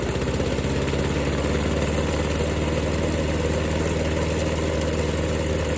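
A lawn mower engine runs at a steady idle after being started following pressure washing and carburetor cleaning, a loud, continuous, even chug that fills the whole stretch.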